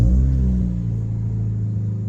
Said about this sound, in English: Exhaust leak. Love it.